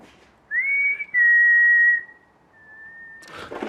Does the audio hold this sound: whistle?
yes